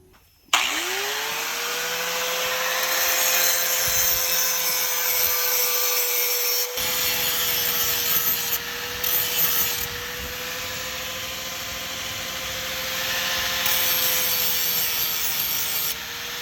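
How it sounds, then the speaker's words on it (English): Grinder touching up the metal cutter of a weed eater at an Alaskan homestead, a steady loud whine that holds throughout with slight rubbing variations, no talking. "gotta get a grinder"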